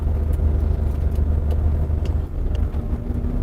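IVECO Eurocargo 4x4 truck engine idling and dropping back a gear, a steady low diesel rumble with a slight dip in level partway through, heard alone without talk.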